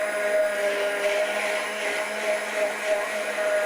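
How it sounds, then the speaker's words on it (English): A hand blender whirs steadily and close up while blending tomatoes with water and basil stock, a continuous high motor drone with slight wavering throughout. "you can maybe blend that with a hand blender"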